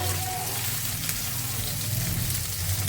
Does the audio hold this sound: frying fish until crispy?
yes